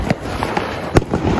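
Ground spinner fireworks (chakri) going off during Diwali celebrations, heard as a few short crackling pops and sputters with one sharper louder burst near the end, over steady background noise.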